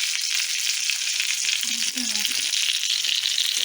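Batter-coated chicken cutlets fry in a pan, giving a steady, dense crackling sizzle throughout, with a faint brief murmur partway through.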